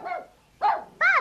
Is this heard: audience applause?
no